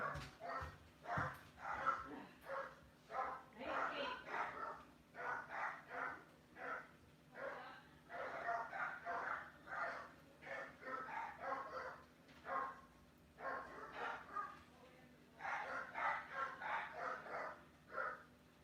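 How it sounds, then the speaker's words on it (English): Small chihuahuas bark outdoors in a long series of quick, yappy bursts with short pauses between volleys, fairly distant and moderately loud, with faint bird sounds in the background. "Yeah, the wee chihuahuas do that too. There's going to be a barking battle out there."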